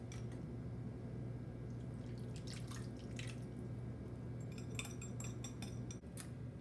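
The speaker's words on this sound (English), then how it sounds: "now we are going to pour this directly on top of the meat." Sweet citrus juice sauce pours over turkey breast tenderloins in a pan with faint dripping and splashing, and a few small clinks of a utensil or dish sit over a steady low kitchen hum.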